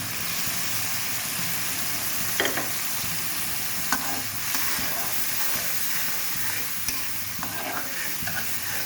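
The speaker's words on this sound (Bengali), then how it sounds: "এগুলো ভালোভাবে আমি কষিয়ে নেব।" Shrimp sautéing in a hot pan give a steady, loud sizzle and hiss throughout, with occasional scrapes and knocks as they are stirred.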